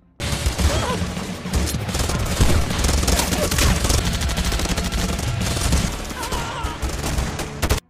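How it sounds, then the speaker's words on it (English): A fierce gangster shootout in a film scene, rapid overlapping bursts of gunfire and machine-gun fire that are loud and sustained for about eight seconds. "Orlando and his gangsters suddenly appeared, followed by Venus and his group, so there was a fierce shootout between them."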